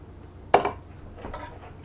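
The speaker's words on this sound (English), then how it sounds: "So let me get a plate to set these on." A plate set down with homemade cookie bowls: a single sharp ceramic clink, close and clear, followed by a faint softer knock in a quiet kitchen.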